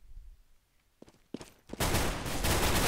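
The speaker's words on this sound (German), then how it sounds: "Headshot von Emilio." Gunfire in CS:GO on the de_inferno map during a tournament final, with a few scattered footsteps and clicks, then a loud, continuous burst of automatic fire that fills the last second.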